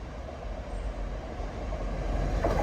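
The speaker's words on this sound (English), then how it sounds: "This is a Trans-Pennine service that is booked to come this way because it's the Castleford York service." Trans-Pennine Express train on the Manchester Piccadilly to York via Castleford service running through a station without stopping, a steady low rumble with rail noise rising slightly toward the end.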